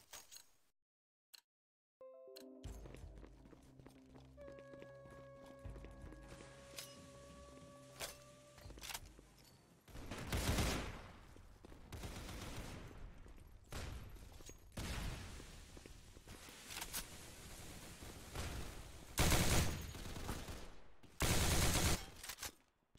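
Bursts of gunfire in a Rainbow Six Siege esports match, scattered sharp shots and rapid volleys under a tonal game sound early on, growing louder toward the end.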